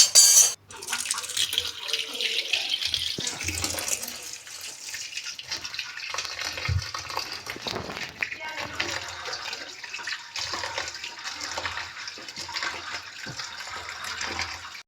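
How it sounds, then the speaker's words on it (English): Cold tap water runs steadily over boiled chow mein noodles as they are drained and rinsed in a kitchen, a continuous splashing stream lasting throughout, with a brief clatter near the start. "and rinse it with cold water."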